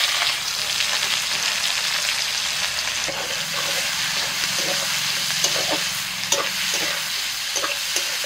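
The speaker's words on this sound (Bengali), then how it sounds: "ফোড়ন হয়ে গেছে, দিয়ে দিচ্ছি পেঁয়াজ কুচি" Chopped onion sizzles in hot oil with cardamom, cinnamon, cloves and star anise, a steady close frying hiss with scattered stirring scrapes and clicks from a spatula, no talking.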